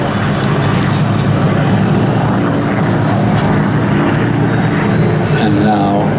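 A Spitfire with a Merlin engine passes overhead at the Flying Legends airshow, a steady, loud, broad propeller-engine roar throughout, with voices talking over it.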